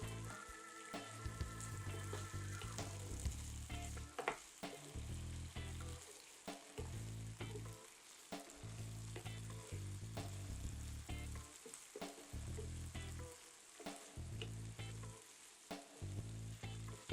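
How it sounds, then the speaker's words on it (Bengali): Chicken frying in a pan with soy sauce for noodles gives a soft sizzle, broken by repeated spatula scrapes and stirring clatter in an irregular rhythm. Quiet and close, with no one talking. "এই চিকেনটাকে আমি 4 মিনিটের মতন একটু সিদ্ধ করে নিব, ভাজতে ভাজতে যতটুকু সিদ্ধ হয়"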